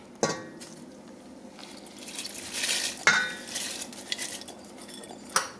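Soaked lentils and water go into a cooking pot for lentil soup, with a metal clank, a soft rush of pouring and a few sharper clinks of utensils against the pot.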